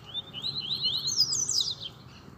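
High, quick chirping calls from a couple of birds in rapid succession, moderately close, over a quiet, faintly noisy background.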